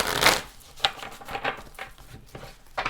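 Oracle cards being shuffled and drawn, a series of soft papery flicks and riffles with a few sharper snaps, close and moderately loud, without talking.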